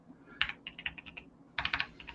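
Fast computer keyboard typing while entering command-line input for a Python 3 function, heard alone as uneven bursts of close, crisp key clicks with brief pauses between runs.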